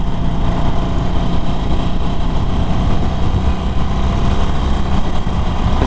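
A 2019 Harley-Davidson Forty-Eight Special motorcycle engine rumbles steadily and loudly throughout, a dense, constant low drone heard from the rider's position with wind noise and no clear rise or gaps.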